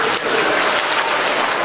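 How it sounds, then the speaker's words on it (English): Students clapping together in a school gathering, a dense, steady wash of applause filling the whole moment at close range. "Let me hear you clap."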